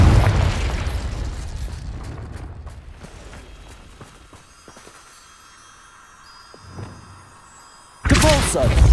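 A Confringo spell blast in Hogwarts Legacy opens with a loud, close booming burst that fades into a long rumbling tail, followed by a soft thud and then a second abrupt heavy blast near the end.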